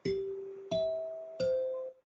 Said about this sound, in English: those are the NBC chimes